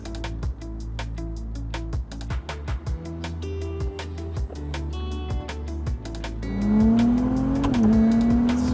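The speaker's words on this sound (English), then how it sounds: "you can hear the engine, the turbochargers and the environment" A Ferrari 296 GTS engine revs and shifts in bursts with rapid turbocharger clicks and whooshes, then settles into a rising drone with a whining tone.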